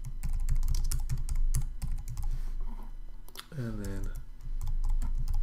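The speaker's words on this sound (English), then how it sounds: "too much typing" Rapid, irregular clatter of keys on a computer keyboard while coding a sidebar layout, close and crisp, with a voice speaking briefly partway through.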